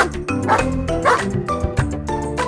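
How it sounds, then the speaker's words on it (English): A small toy dog yaps and barks over a bouncy music backdrop, the electronic yips coming in a short lively burst, close and fairly loud. "A little dog."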